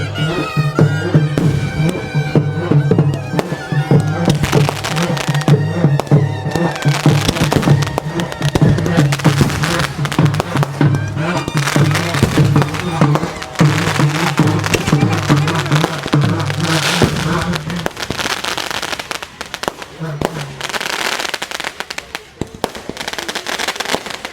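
Firecrackers burst nonstop at a village temple festival for Hatti Lakkamma, a loud, dense barrage of rapid cracks and pops that thins out only briefly near the end.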